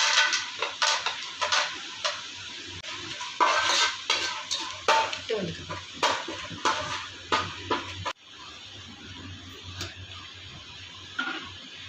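Almonds clatter and scrape in a pan as they fry and are stirred for mandi biryani, a run of rhythmic close metallic taps and rattles that drops to quieter sizzling near the end.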